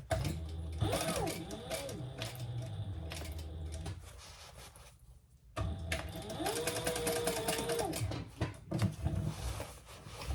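A sewing machine stitches a messenger bag in two long runs, its steady rapid whirr pausing briefly near the middle before starting again, with a few soft handling clunks alongside.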